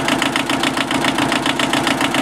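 An old diesel tractor engine idles, running on six-year-old diesel fuel, with a steady, rapid knocking chug that stays loud and close throughout and has no talking over it.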